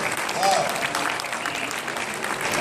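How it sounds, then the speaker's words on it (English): Audience applauding new dealers at a Saladmaster sales event, a steady dense wash of clapping filling the room for a few seconds, with a brief voice or whistle cutting through early on. "New dealers, give them a round of applause."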